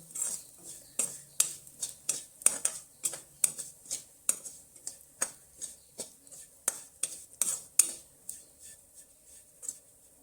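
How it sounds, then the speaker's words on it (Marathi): Fenugreek seeds roasting in ghee in a kadhai for methi ladoos, heard as a spatula scraping and clinking against the pan in a steady rhythm of about two strokes per second, close and without talk. "आता ही मेथी चांगली भाजून झालेली आहे"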